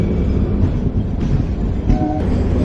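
DEMU Express 11415 pulling out of Badami railway station, a steady low rumble of rolling stock with faint higher tones, continuous and fairly loud without talk.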